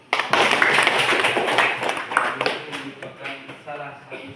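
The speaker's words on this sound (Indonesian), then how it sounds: "Mari kita tepuk tangan" A group claps hands in a burst that fades out over a few seconds, with voices mixed in toward the end.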